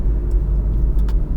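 A BMW F80 M3 engine rumbles loudly and close by as it accelerates, with a deep, steady roar.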